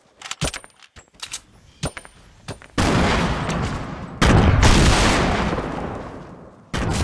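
Gunfire from a weapon in Fortnite: scattered sharp shots early, then loud continuous bursts of rapid fire that go on for several seconds, close and dominating.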